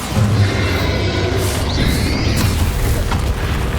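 Bombarda explosion spell cast in Hogwarts Legacy, a loud, dense booming blast with rumbling low end that sustains across the few seconds, with a brief whooshing sweep partway through and no talking.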